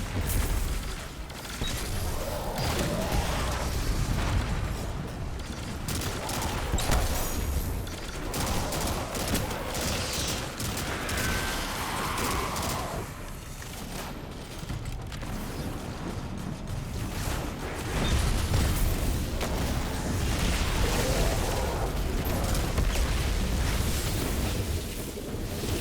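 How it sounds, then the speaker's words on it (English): Repeated sticky grenade blasts in the video game Destiny, each going off twice, roll through a dense, loud wash of gunfire and rumbling noise with no talking. "Also, I do love how my sticky grenades explode twice."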